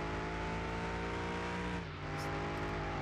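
Mercedes-AMG race car engine from Car Mechanic Simulator 21 on a road course, droning steadily with layered harmonics, briefly dipping around a shift or braking before pulling again, close and continuous throughout.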